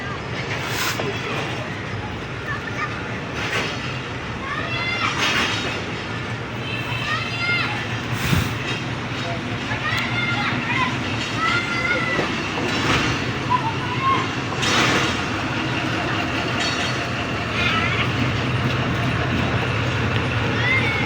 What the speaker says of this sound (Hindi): एक ट्रेन LH मोड में बैक जा रही है और दूसरी ट्रेन वज़ीराबाद जंक्शन पहुंच रही है।